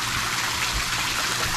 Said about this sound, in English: it literally pumps water through these pipes up there and then back down into the pool